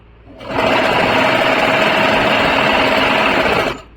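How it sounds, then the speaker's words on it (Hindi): Steady, close whir of a sewing machine stitching a kurti seam with piping, starting after a short pause and running continuously for about three seconds before stopping, with no talk. "तो ये पूरी सिलाई इसी तरीके से कंप्लीट करेंगे।"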